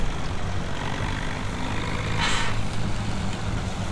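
A small tractor engine in Farming Simulator 17 runs with a loud, steady, rough drone, broken briefly in the middle by a short hiss.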